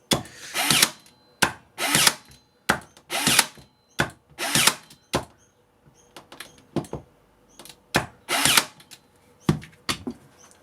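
A cordless Ozito nailer drives 15mm nails into hardwood, firing a series of sharp, loud mechanical bursts, each followed by a brief whir, in an irregular rhythm with short pauses between shots, close up and with no talking.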